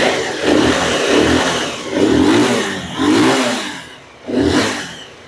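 A second-hand 200cc motorbike in good condition is revved four times in quick succession, each throttle blip swelling loud and close before dropping back to idle.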